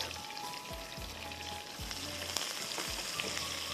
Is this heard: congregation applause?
no